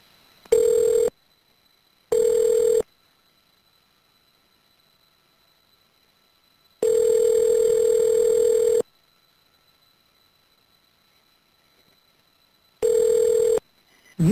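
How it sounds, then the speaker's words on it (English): Call-progress tones on a prison phone call as a number is dialed: a series of steady beeps of varying length separated by silent gaps, clean and close with no talking. "The number is now being dialed."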